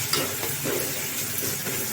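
Garlic and ginger sizzling and being stirred in a pan while cooking a suran and dry bombil vegetable dish, a close, continuous frying crackle with light scraping of the pan.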